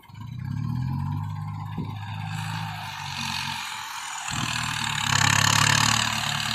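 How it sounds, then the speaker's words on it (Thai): A heavy diesel tractor engine chugs nearby, revving harder a couple of times as it strains pulling a grader stuck in a road, with a steady low rumble throughout. "เอาเดี๋ยวเราจะเอารถไถดึง"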